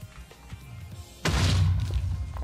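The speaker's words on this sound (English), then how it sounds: "An explosion!" A TNT explosion in the Astroneer video game bursts out as a sudden loud boom after a quiet stretch, then continues as a sustained rumbling blast.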